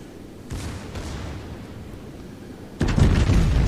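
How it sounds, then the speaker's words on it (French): Naval guns fire a salvo in World of Warships, heavy booming blasts that hit at the start and again near the end, with the later burst louder and rumbling on. "jolie salve sur l'Atlanta"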